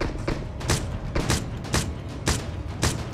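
Gunshots from a video game shooter ring out loud and near in an irregular series of single heavy bangs, roughly six or seven over a few seconds, against a constant noisy background.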